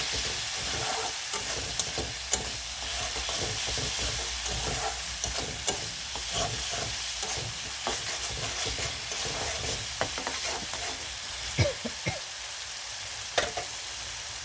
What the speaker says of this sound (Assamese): আৰু মই এতিয়া মছলাখিনি 1 মিনিট ভাজি ল'ম।